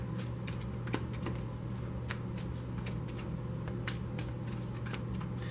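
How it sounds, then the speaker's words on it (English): A deck of tarot cards is shuffled by hand, giving quick, crisp riffling bursts in an irregular rhythm, close and fairly quiet against a low steady hum, with no talking. "so I'm only going to shuffle it for a moment"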